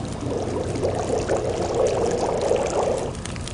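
Water pours steadily while a container is filled in The Long Dark, a smooth continuous stream of liquid running for a few seconds before it stops, with no voices over it.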